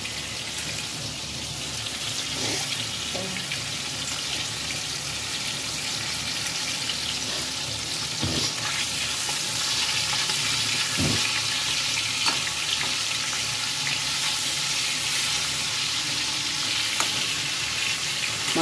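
Pieces of rohu fish fry in hot oil for a kalia curry, giving a continuous, even sizzle at close range with no voices, only faint clinks now and then.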